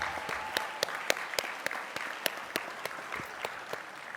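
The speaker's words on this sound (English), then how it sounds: "everybody give him a huge round of applause" Steady applause from a conference audience at a governors summit, with a few sharper individual claps popping out above the continuous patter, heard from a moderate distance.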